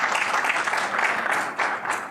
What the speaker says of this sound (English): Please, can we give a round of applause as she comes up?